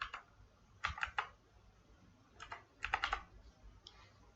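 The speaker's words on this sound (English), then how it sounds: "You again need to type this OTP." An OTP code typed on a computer keyboard, two quick clusters of soft, close key clicks separated by a pause in a quiet room.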